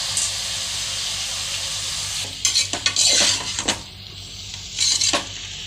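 Chicken with tomato and ginger-garlic paste fries in a pan, a steady low sizzle under clattering scrapes and knocks of a spoon stirring in bursts, close and fairly quiet.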